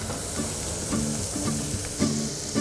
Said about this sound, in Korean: 어느새 지글지글 딱 먹기 좋게 삼겹살이 익었습니다.